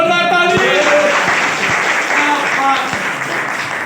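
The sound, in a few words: audience applause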